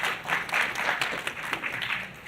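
An audience at a business panel discussion breaks into applause, a moderate swell of clapping that rises quickly and then slowly thins out toward the end.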